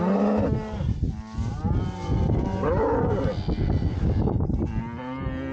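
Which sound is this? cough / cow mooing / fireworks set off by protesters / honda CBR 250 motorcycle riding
cow mooing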